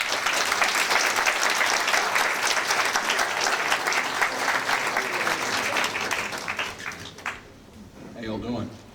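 A lecture audience bursts into loud, sustained applause from many hands, tapering off near the end as a voice begins to speak.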